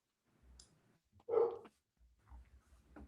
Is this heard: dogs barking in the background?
yes